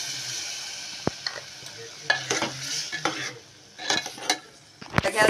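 Chickpeas in a masala of spices and oil, stirred in a pan for chole, give off a low sizzle with irregular scraping strokes and clinks of a spoon against the metal. The strokes are close and moderately loud, and no one speaks.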